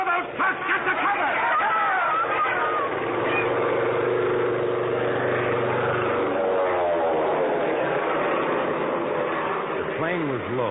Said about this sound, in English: The plane was low, making a run right down Main Street.